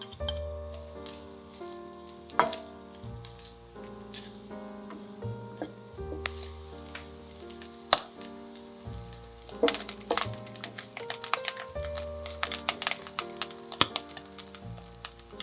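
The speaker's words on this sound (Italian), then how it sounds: "facciamo soffriggere i ceci schiacciati e il bambù tagliato grossolanamente" Mashed chickpeas and coarsely chopped bamboo sizzle and crackle in hot oil, a steady frying hiss with occasional sharper pops and stirring clatters, close up and without voices.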